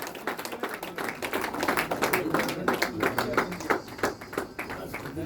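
An audience at a university National Sports Day celebration gives a sports coach a round of applause: dense, steady clapping from many hands, fairly close and lasting throughout.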